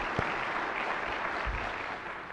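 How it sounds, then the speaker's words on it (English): A conference audience applauds in a short, steady burst of clapping that fills a large general-session hall, heard on its own. "let's give Stephanie a round of applause"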